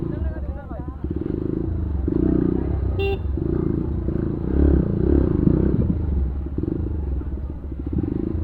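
Many motorcycles idling and revving at a crowded bikers' meetup in Dhanbad, Jharkhand, a dense close engine rumble with a brief horn toot, under continuous excited talk from nearby voices.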